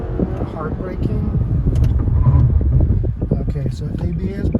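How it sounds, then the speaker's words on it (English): A 2022 Hyundai Elantra or Nissan Sentra brakes hard on a test drive, giving a loud, rumbling cabin roar with rapid uneven pulsing from the ABS and rough road noise throughout, close and continuous. "when ABS kicks in, it's like the pulsating the brakes"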